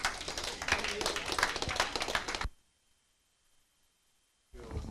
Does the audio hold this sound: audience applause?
yes